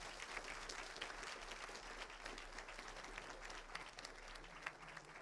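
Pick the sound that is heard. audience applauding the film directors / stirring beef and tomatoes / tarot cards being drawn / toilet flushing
audience applauding the film directors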